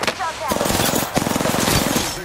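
Rapid automatic gunfire in the battle royale shooter Apex Legends, dense bursts of close shots with a voice talking over the firing.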